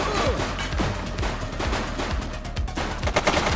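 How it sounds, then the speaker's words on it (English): Rapid gunfire from a video game, bursts of shots crackling continuously over a dense, loud backdrop of game sound and music. "She's shooting!"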